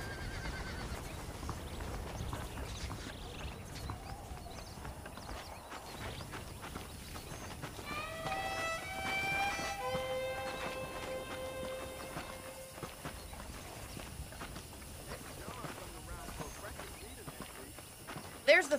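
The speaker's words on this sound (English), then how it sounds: "The horses are saddled up over here." Horses in the Red Dead Redemption video game whinny with a drawn-out, wavering neigh and clip-clop hooves over steady game ambience, while voices talk throughout.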